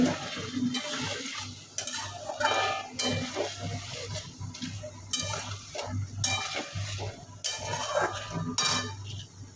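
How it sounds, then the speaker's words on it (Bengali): Meat coated in spice paste fries in a pan and is stirred, a steady sizzle broken by repeated scraping and clinking of a spoon against the metal. "আস্তে আস্তে কষছে মাংসগুলো"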